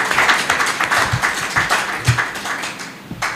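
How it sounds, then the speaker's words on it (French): An audience applauds for Monsieur Diallo at a ceremony honouring resistance victims, steady close clapping with irregular sharp hand claps standing out, thinning slightly toward the end. "je voudrais que vous applaudissiez"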